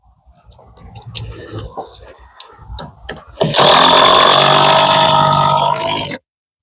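A power drill drives screws into wooden framing for a tiny house or shed wall, with a few scattered knocks and clatters before a loud, sustained whirring burst that cuts off abruptly.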